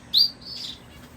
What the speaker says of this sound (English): there's a society finch singing